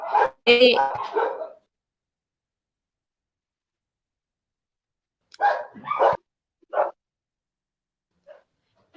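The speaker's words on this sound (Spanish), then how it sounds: "perdón, mis perritos" Pet dogs bark in short bursts indoors, a loud cluster at the start and then several sharper yaps later, with silent gaps between the outbursts.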